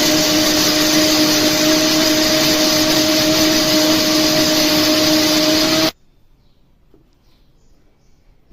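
An electric mixer grinder whirs at high speed grinding masala into a fine paste, a loud steady motor whine with a constant tone that cuts off abruptly, leaving near silence.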